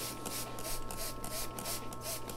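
A spray bottle mists water onto the soil of a potted tree in repeated short bursts, close and fairly quiet, with no talking.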